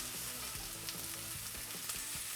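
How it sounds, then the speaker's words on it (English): Pork chops sear in a hot pan with lemons laid on top, giving a steady close sizzle with faint crackles and an occasional clink of tongs, no talking. "just want to kind of quick sear each side"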